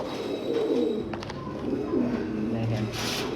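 A pair of Chinese owl pigeons coo softly in a loft, low murmuring calls rising and falling close by, with someone talking over them.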